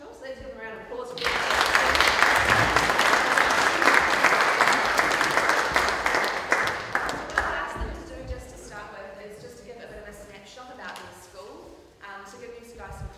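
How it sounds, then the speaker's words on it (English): An audience claps for a welcomed guest, a full round of applause that swells quickly and holds for several seconds before thinning out, with a voice speaking over the tail end. "let's give them a round of applause"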